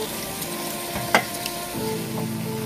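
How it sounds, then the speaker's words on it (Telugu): Mutton with yogurt, ginger-garlic paste and masala sizzling and frying in a pan, a steady close crackle with a brief scrape of stirring partway through and no talking. "మటన్ పెరుగు మసాలాలు అన్నీని వేసేద్దాం అంటే అల్లం వెల్లిపాయ పేస్ట్ కూడా ఇందులోనే వేస్తాను"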